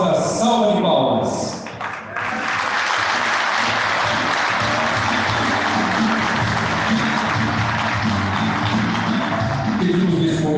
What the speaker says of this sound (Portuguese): pedimos uma calorosa salva de palmas